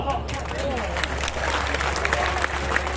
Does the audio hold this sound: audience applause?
yes